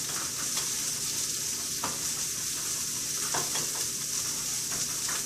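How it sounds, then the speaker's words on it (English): Vegetables sautéing in a pan for an egg scramble, a steady close sizzle with occasional scraping stir strokes and no talk. "I'm sauteing my veggies over here"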